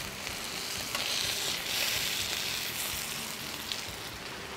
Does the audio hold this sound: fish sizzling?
yes